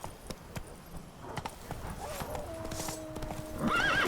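Roach, Geralt's horse in The Witcher 3, moves with a run of hoof clip-clops, then a neigh near the end, over a bed of game ambience and music.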